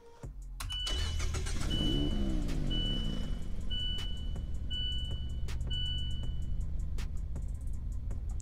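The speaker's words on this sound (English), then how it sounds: "it has a pretty nice startup and also a pretty clean idling sound as well" A Fiat 124 Spider Abarth in a driving video game cranks and fires up, then settles into a steady, clean idle. Faint beeps repeat over the engine as it runs alone with no talk.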